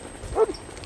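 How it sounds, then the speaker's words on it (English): A police K9 dog gives a single short bark close by, a brief sharp burst over low background rumble at an arrest scene. "The dog's coming to get you out."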